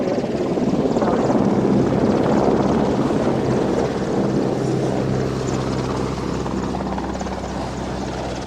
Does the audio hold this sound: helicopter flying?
yes